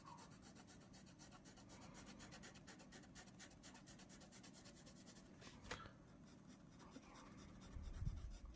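Pencil scratching tiger stripes onto paper, quiet close-up rubbing and stroking in quick repeated marks with a faint background hum.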